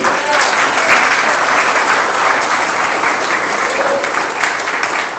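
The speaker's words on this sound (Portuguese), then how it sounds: "Você pode aplaudir o Senhor Jesus?" A church congregation applauds in a loud, dense, steady burst of clapping that fills the whole space without letting up.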